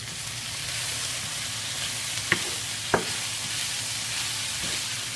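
Organic potatoes and mixed vegetables sizzle steadily in a frying pan while being stirred, with a constant hiss broken by two sharp utensil scrapes and knocks.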